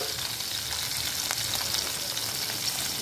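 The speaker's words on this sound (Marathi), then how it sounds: "थोडं आपण तेलातच परतून घेऊया याला।" Green chillies fry in hot ghee in a pan as a tempering for sabudana khichdi, giving a steady, close, continuous sizzle and crackle throughout, with no voices.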